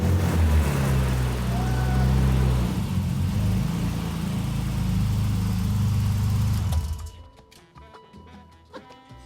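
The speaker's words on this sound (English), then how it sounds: "Let me go start the engine." A car engine runs with a steady, loud low rumble after an engine bay cleaning with foam, then drops away abruptly to quieter mechanical clicks and a faint hum near the end.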